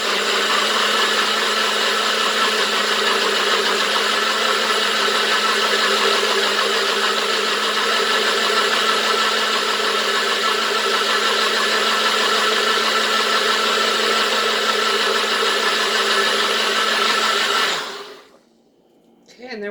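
Blender pureeing asparagus soup with rosemary, a loud steady whir that holds at full power for about eighteen seconds before cutting off abruptly into near silence.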